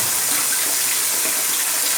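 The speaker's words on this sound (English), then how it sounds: "Just some nice warm bath water." Warm water runs steadily from a tap into a basin to wash parts of an e-Machine 600is computer, a loud, continuous, even rush with no other sounds.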